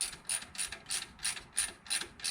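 Ratchet wrench tightening the serpentine belt idler on a Nissan Versa with an HR16DE engine, giving about eight quick, evenly spaced bursts of rapid pawl clicks, close up and clear, with no talk.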